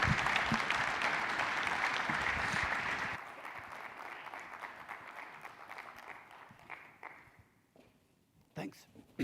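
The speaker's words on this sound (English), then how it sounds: "A round of applause." Audience applause at a healthcare company launch event, dense clapping filling the room for about three seconds, then thinning to scattered claps that fade out, with a few last isolated claps near the end.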